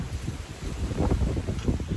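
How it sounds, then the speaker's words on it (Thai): Strong wind gusts buffet outdoors in Florida as cold weather arrives, producing a steady low roar with louder surges midway, heavy microphone rumble and no speech. "ลมแรงมากลมแรง"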